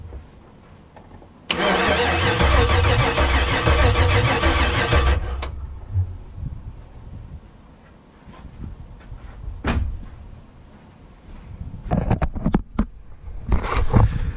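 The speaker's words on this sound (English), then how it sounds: "Let's set you up and watch the engine turn over." A truck engine with an LS swap cranks over steadily for several seconds on a very old battery with a loud whirring drone, then stops, followed by scattered knocks and clunks nearby.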